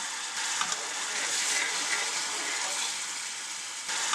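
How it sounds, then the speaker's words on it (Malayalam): Water poured into hot caramelized sugar for a plum cake sets off a loud, steady hissing sizzle that fills the whole stretch with no pause. "വെള്ളം ഒഴിച്ച് കൊടുക്കാം."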